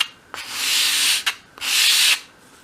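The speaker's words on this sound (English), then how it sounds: "once you've got the bevel there and you think it's a little bit uneven, you can just go that way along the sandpaper." Two sustained rubbing strokes of a small wooden piece drawn along sandpaper to even out a bevel on a 1/12th-scale dolls house console table part, each stroke a close, steady scratchy hiss with a brief scrape between them.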